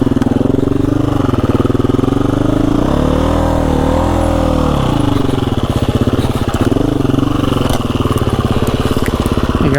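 A KTM EXC-F 350 enduro motorcycle rides hard off-road through gorse and hidden tree stumps. Its engine drones loudly and continuously close by, with the pitch rising and falling as the throttle changes.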